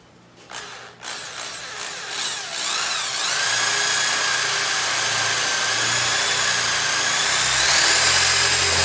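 A power drill bores holes into a home wall to mount a panel. A few short starts lead into a steady, loud, rising whine that runs on alone to the end.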